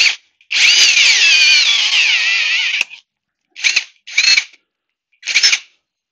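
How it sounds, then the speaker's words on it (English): A high-pitched power drill whirs for about two seconds, then gives three short bursts drilling a hole, close and loud with silence between. "Let's just drill a hole in here."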